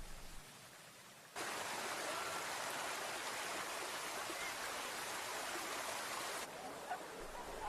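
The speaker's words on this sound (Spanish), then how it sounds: "El agua caliente de los manantiales riega la piedra caliza y tiñe de blanco azulado a las montañas." Hot spring water pouring over white limestone terraces at Pamukkale, a steady hissing rush that starts abruptly after a quiet moment and holds evenly before dropping back to a softer background.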